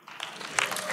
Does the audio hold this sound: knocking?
no